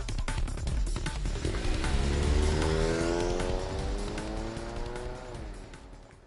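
A car in the video game 428 Shibuya Scramble rounds a corner, its engine rising and swelling to a peak before fading off as it pulls away, loud and close with a squealing edge.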